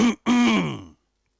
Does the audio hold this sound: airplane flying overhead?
no